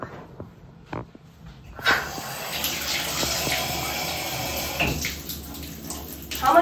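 A bathroom tap in a Courtyard by Marriott hotel room in Washington, DC is turned on after a few quiet knocks, then runs as a steady, close, hissing rush of water that continues to the end.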